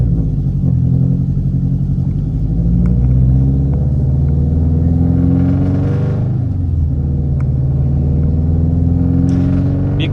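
A built Subaru WRX turbo engine idles loud and close with a deep steady rumble and a slightly uneven, wavering pitch throughout.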